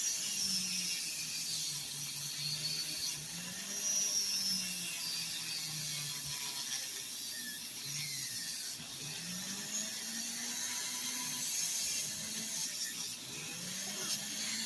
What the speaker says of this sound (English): Now, if you take your polishing wheel and go right up the middle, you can make like a little fishtail effect.